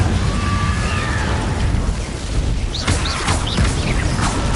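A roaring fire-spell blast from Hogwarts Legacy, the Incendio charm, fills the space with loud, sustained crackling whoosh and sharp bright flickers toward the end.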